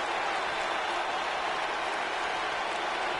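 Crowd at a live wrestling event roaring and cheering, a steady dense wash of noise with no breaks, loud and continuous throughout.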